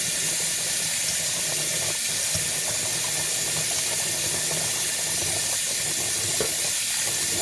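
Rice being rinsed in cold water, a steady broad hiss of running and sloshing water that continues evenly throughout, close and fairly loud, with no talking.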